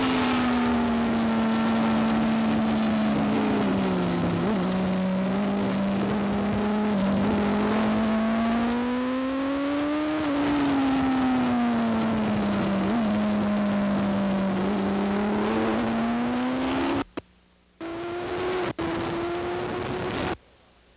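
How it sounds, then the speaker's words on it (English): On-board at Brainerd International Raceway, a Yamaha YZR 500 racing motorcycle engine howls loud and close, its pitch rising and falling with throttle changes through the corners, then cutting abruptly near the end before picking back up. "Here we are on board with Chuck Graves at Brainerd International Raceway. You can see and hear how he uses the throttle."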